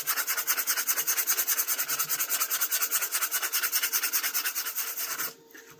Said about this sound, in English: I've got some 1000 grit here, and I'm just going to lightly rub.